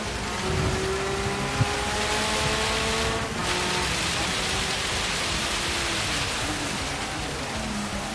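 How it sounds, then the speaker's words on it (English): Steady rain hiss in the Gran Turismo 7 racing game, a constant broadband wash with faint engine tones underneath and no talking. "Comes the rain."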